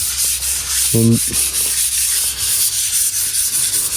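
Bamboo railing for a house front is sanded by hand with continuous, loud, close rasping strokes, a steady scratchy friction with a brief tonal squeak partway through.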